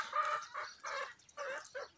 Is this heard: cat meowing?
no